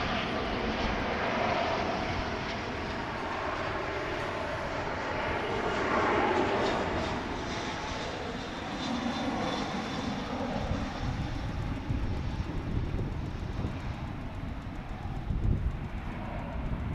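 Airplane taking off from runway 18 left at Dallas/Fort Worth Airport, a steady broadband engine roar swelling slightly, heard from a distance as a continuous rumbling wash.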